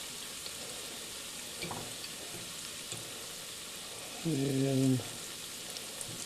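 Dandelion flowers deep frying in hot oil give a soft, steady sizzle throughout. A brief spoken word cuts in near the end.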